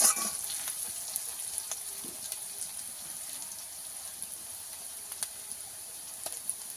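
Onions frying in a pan until browned, a steady soft sizzle running throughout with faint scattered crackles and stirring clicks, close and even in level, no talking.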